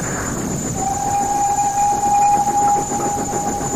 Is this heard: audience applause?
no